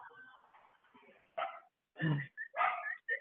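Neighborhood dogs bark in a few sharp, separate yips and woofs, fairly close, with quiet gaps between them.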